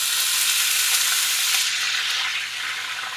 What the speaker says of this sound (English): we're now going to add it to the pan, and it should sizzle a bit